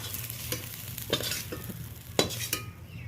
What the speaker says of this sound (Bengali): ভালোভাবে বেগুনটাও আমি ভেজে নিলাম